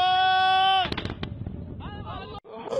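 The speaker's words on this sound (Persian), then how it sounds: "انفجارات هائله في معامل الدفاع" Large explosions at defense factories: a sustained tonal sound opens, then a dense run of heavy, rumbling blasts and crackling bursts follows close together for about a second and a half, loud and continuous, before trailing into fainter noise.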